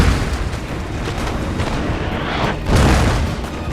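Rumbling artillery fire in a strategy game battle between Russian and opposing lines, with dense, continuous booms and a heavier blast swelling near the end, loud and unbroken.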